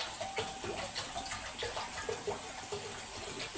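Tap water runs into a cooking pot for boiling meat in a home kitchen, a soft continuous splashing trickle heard close, with faint background clatter and no talk.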